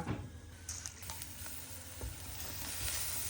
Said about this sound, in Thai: กำลังขัวพริกเนาะเดี๋ยวรอมันสุกก็ไปซุปบะเขือกันจ้า